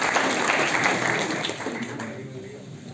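Applause for a top-scoring student at a coaching institute's toppers award ceremony, a dense wash of clapping from a seated crowd that thins out toward the end.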